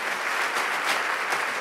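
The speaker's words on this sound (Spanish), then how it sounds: "démosle palmas fuertes al Señor" A church congregation claps loudly for God during a Spanish-language sermon, dense and close, with rolling swells of hands at an even volume throughout.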